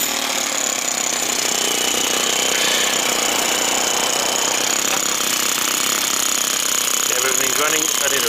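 A four-stroke engine fitted in an RC Mercedes-Benz truck runs steadily with a rapid, harsh, buzzing rattle, loud and close and unbroken for the whole stretch.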